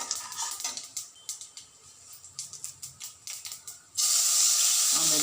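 Chana dal and urad dal dropped into hot oil for an ellu pudi chitranna tempering: a quick run of crackling pops and spits, then a sudden loud, steady hiss that holds to the end.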